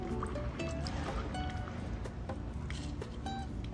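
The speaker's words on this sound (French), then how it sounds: "Et là, on verse notre concoction." A coconut mojito mixture pours into a glass packed with ice, giving a soft, quiet splashing trickle with faint clinks of ice throughout.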